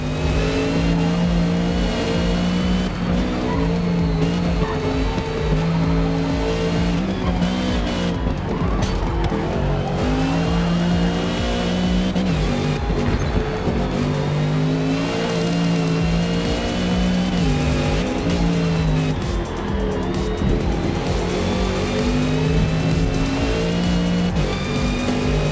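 A 1967 Shelby GT500 races flat out around Le Mans in Forza Motorsport, its engine roaring loud and steady with shifting harmonic pitch as it climbs through the gears, punctuated by brief tire noise, with no one talking.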